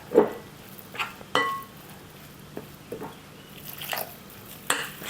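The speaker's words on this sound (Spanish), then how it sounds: "La mezclo un poquito con la cuchara" A spoon stirs oat and chocolate dough in a bowl, giving scattered soft clinks against the bowl with quieter squishy mixing between them, close and with no talk.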